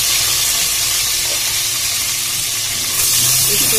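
Ginger and garlic paste fries in a pan with a loud, close, continuous sizzle and hiss that swells slightly near the end, with no talking.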